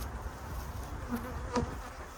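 Bees in an opened beehive buzz in a constant close, low hum, with a few louder individual bees flying by.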